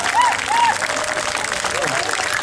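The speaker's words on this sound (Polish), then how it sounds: "Brawa, proszę Państwa, brawa, głośna, głośna brawa." A crowd at an outdoor summer festival by the river keeps up steady, dense applause throughout the short moment, with a few faint whistles or voices mixed in.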